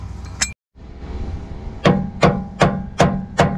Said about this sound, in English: Get it seated first with a rubber mallet, just till we feel it go firm.